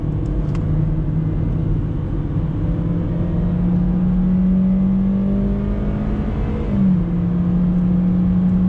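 A 2017 Opel Corsa 1.4 automatic's engine drones steadily, then revs with a rising pitch as it accelerates, heard from inside the car with no talking.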